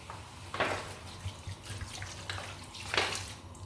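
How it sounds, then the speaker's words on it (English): Water is poured into a soup pot holding washed meat and stockfish, a brief splashing trickle in two short bursts, close and fairly quiet, with no talk. "Then I'll add little water to it."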